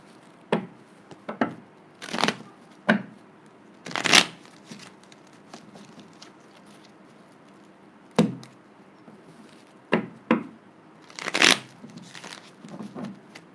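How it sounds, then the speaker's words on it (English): Tarot cards shuffled by hand during a Sagittarius love reading, heard as a series of crisp riffling bursts spaced irregularly across the clip, near and fairly loud against a quiet room with no talking. "A couple more shuffles and I'll get right into the reading."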